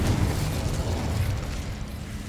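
Fiery magical blast from the Confringo spell in Hogwarts Legacy, a loud, close rumbling explosion that swells at once and rolls on with a dense, crackling low boom.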